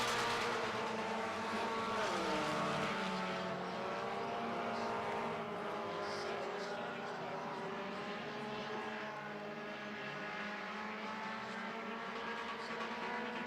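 Stock four-cylinder race cars roar around the oval in a steady, loud, continuous engine drone with shifting pitch as they pass through the turns.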